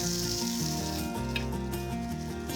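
Fresh corn kernels fry in a hot pan with a steady, dense sizzle that stays loud and close throughout, with light stirring scrapes and no talking.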